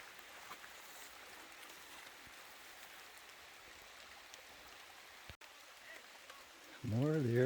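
Beaver Creek at Montezuma Castle, Arizona, flows with a faint, steady watery hiss heard from a distance and unbroken for several seconds, until a voice begins near the end.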